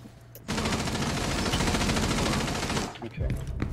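Rapid automatic gunfire from a window in a video game, a dense sustained burst lasting several seconds at close range, then cutting off into quieter game sounds.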